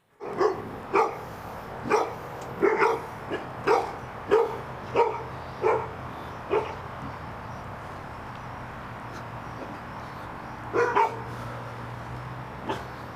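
Several dogs barking in a rapid burst of loud, sharp barks close by during a police call in Richland County, then a pause before a couple more barks near the end.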